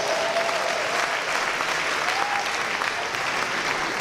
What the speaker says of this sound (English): If you are the one I'm talking to, clap for yourself